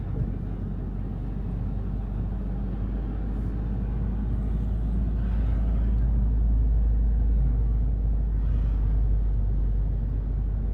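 A car drives slowly around a small town on a bright day, its engine and road rumble a steady, close, low drone inside the cabin with no talk.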